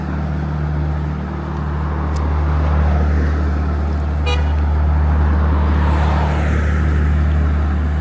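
Steady road traffic in Abuja's Central Business District, with car engines rumbling continuously and a brief horn toot partway through, at a checkpoint where vehicle inspection officers stop and search cars.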